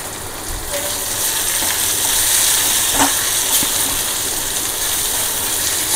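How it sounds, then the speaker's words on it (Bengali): Onion frying in a pan makes a loud, continuous hiss and crackle, with scattered clicks and scrapes from stirring. No one speaks over it. "পেঁয়াজটাকে একটু ভালো করে ভাজতে হবে"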